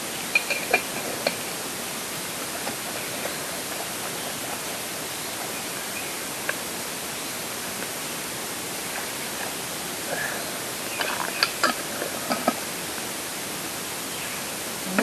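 Water swirling and rinsing inside a glass marinara jar, a steady broadband wash with a few small clinks, continuous and fairly soft throughout with no talking.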